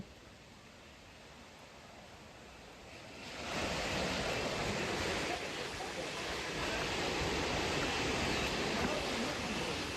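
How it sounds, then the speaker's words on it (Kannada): Abbey Falls waterfall in Coorg, a steady broadband rush of falling water that swells louder a few seconds in and holds there, continuous and near, with no talk over it. "ಅಬ್ಬೆ ಅಬ್ಬೆ ಫಾಲ್ಸ್ ಬಂತು"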